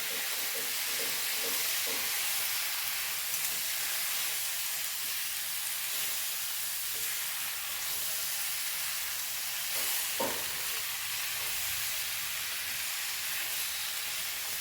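A pan of date and lemon pickle sizzles with a steady hiss while a spoon scrapes and stirs in dates, a few soft knocks early on and one clunk later.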